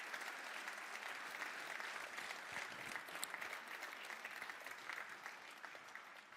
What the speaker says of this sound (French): vous pouvez tous les applaudir pour leur travail